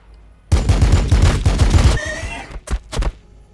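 Units firing in Warhammer 40,000: Battlesector, a loud close volley of rapid overlapping shots for about a second and a half, then a couple of separate heavy single blasts.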